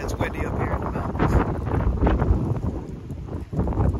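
Strong mountain wind gusts against the microphone at high elevation, a steady roaring, buffeting rumble that swells and dips without pause, close and loud throughout.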